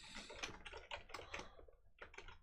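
A file name being typed on a computer keyboard, with quick, faint, close keystrokes in short uneven bursts and a brief pause near the end.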